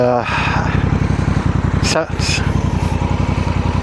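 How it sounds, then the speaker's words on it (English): A 2025 Honda Africa Twin Adventure Sports ES DCT, an 1100cc parallel twin, idling with a deep, pulsing exhaust rumble, close and loud, steady throughout with a brief hiss midway. "It's an 1100 parallel twin, so it has that deep rumble from the exhaust"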